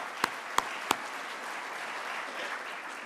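A summit audience applauds officials with steady, sustained clapping that fills the room, a few sharp louder claps standing out at the start.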